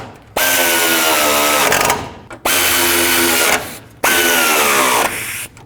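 A power tool drives four small 10mm-headed bolts into the radiator support of a 2002-06 Toyota Camry, with three loud whirring bursts of about one and a half seconds each, separated by short pauses.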